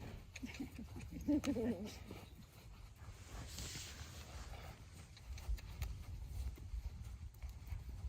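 A young horse being started under saddle moves around, its hooves thudding and clip-clopping softly at a distance over a steady low background, with faint voices here and there.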